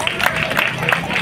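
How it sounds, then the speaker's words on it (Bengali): Audience applause at a prize-giving event: a short burst of dense, steady clapping from a crowd, fairly loud and close throughout. "জোরে হাততালি"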